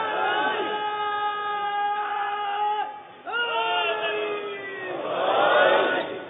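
A large crowd at a Muharram majlis chanting religious slogans in unison, sustained, tonal chanting voices rising and falling together, with a brief dip midway and a swelling roar toward the end.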